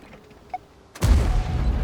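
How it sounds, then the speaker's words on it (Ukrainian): A single loud, sudden boom of a high-explosive tank shell firing in a tank video game, abruptly breaking near-silence and trailing into a rumbling decay. "Фугасом даю постріл"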